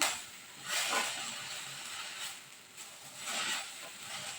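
Dried red chillies fry in a pan with mint, coriander and curry leaves, giving a soft, faint hissing sizzle that swells and fades in a few gentle waves.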